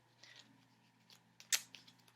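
Oracle cards shuffle in short, quiet riffles and flicks, a few soft card snaps over a faint low hum, ending in one sharper slap of cards, with no talk.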